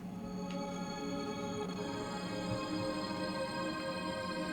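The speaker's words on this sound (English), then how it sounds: "which one is an ambient guitar that sounds like this." Quiet, washed-out guitar tones sustain as a continuous ambient drone with soft, smeared chords and no clear attacks.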